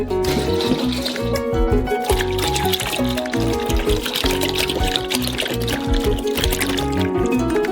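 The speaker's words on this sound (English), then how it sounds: "Pour 4 liters of the maximum fat milk into a saucepan." Four liters of full-fat milk pour steadily into a saucepan, a continuous liquid stream heard beneath prominent background music.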